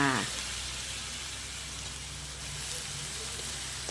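Sliced cabbage and egg stir-frying in a hot pan give a steady, moderate sizzle that runs unbroken through the whole stretch, with a brief clatter at the very start and end.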